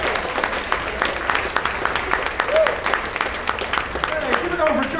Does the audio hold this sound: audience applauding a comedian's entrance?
yes